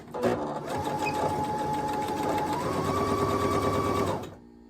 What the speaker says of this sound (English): let me make a seam